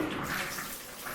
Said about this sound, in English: we just checked the water pressure, and I only check hot water, and we see that it's draining very well